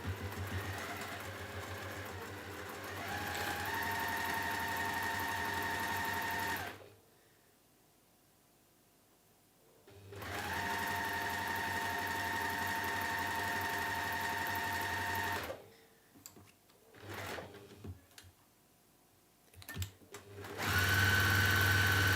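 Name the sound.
sewing machine top stitching a washbag handle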